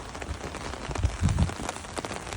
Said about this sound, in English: Okay guys, it's raining.